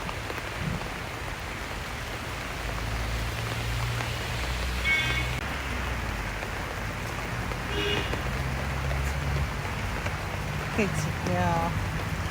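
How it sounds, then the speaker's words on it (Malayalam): Steady rain falls on a garden of flowering bougainvillea and variegated foliage plants, a continuous soft hiss throughout with a few faint bird calls. "ഈ മഴയത്ത് ഇങ്ങനെ മഴ നനഞ്ഞിരിക്കുന്ന"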